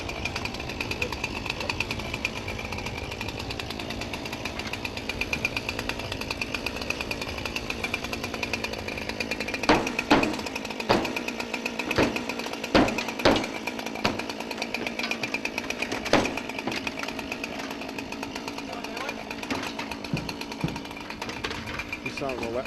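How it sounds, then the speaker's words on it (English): Firefighters cut a ventilation hole in a roof with a power saw, giving a steady buzzing engine drone broken by sharp bursts of cutting and banging, with voices talking over it. "We cut the hole in the top of the roof."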